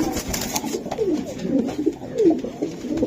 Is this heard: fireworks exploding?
no